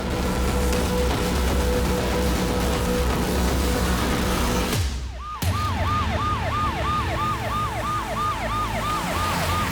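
An ambulance siren wails over steady road traffic noise, first a held tone, then after a brief break a rapid repeating yelp cycling up and down, loud and close.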